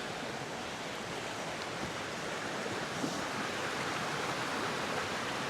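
Steady, dense rush of a river waterfall and its surrounding cascades, a broad continuous roar at constant loudness with no voices.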